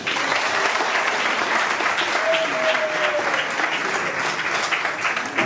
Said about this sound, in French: Vous levez très respectueusement sous vos applaudissements.